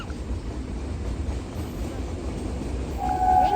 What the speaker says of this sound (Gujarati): વાહ, અહીંયા તો મસ્ત મજાની ટ્રેન આવી છે.